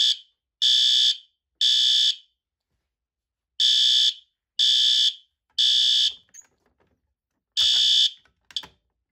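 A System Sensor P2R SpectrAlert Advance fire alarm horn sounds in loud, steady electronic blasts of about half a second each, in groups of three, then stops and starts a new cycle, with faint clicks and rustling between groups.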